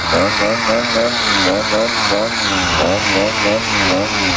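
A small 80cc motorized bicycle engine, recently fitted with a smaller carburetor jet, runs loud and close, its buzzing drone rising and falling in pitch in a repeating rhythm as the throttle is worked.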